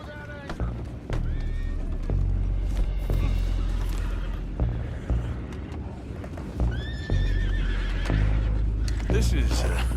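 Horses in Red Dead Redemption 2 whinny and neigh several times, loud and close, over the steady clip-clop of hooves and a low rumbling wagon or boat. Voices speak intermittently beneath them.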